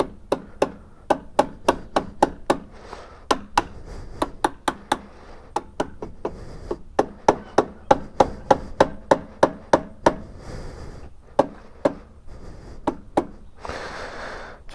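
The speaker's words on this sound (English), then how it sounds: "See, we'll hammer this down real fast." Rapid, steady hammer blows ring out while installing dirt bike bars, dozens of sharp metallic strikes in quick succession with a few short pauses, close and clear.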